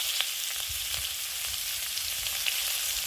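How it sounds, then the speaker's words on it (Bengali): Steady, dense sizzle of chopped onions frying in hot oil in a wok, close and continuous, with a few small pops and scrapes and no voices. "এখন আমি কেটে রাখা পেঁয়াজগুলোকে দিয়ে ভালো করে ভেজে নেব"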